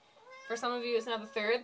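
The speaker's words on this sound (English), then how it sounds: "That's my cat." A pet cat meows repeatedly in drawn-out, tonal cries close to the microphone, several calls in a row, while a person talks over it.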